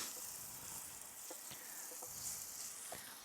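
Aromatics fry gently in a pan during a cook-along, a soft, steady sizzle with a few faint clicks of stirring, quiet and close, with no voices.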